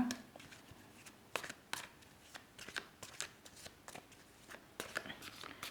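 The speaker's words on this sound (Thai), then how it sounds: "เดี๋ยวขอเปิดไพ่เพิ่มให้อีกสักใบหนึ่งนะ" Tarot cards are shuffled and drawn, giving a quick run of sharp, close flicks and riffles in an irregular rhythm over a faint, quiet background, with no talking.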